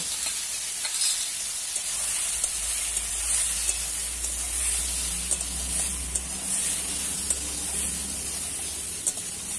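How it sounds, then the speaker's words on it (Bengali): Peeled lychees with salt and turmeric are stirred in a hot pan, producing a continuous bright sizzle and hiss with light, regular ticks from the stirring utensil. "খোসা ছাড়ানো লিচুগুলো দিয়ে দিচ্ছি। একটু নেড়ে চেড়ে দিয়ে দিচ্ছি স্বাদ মতো লবণ, অল্প হলুদ দিচ্ছি।"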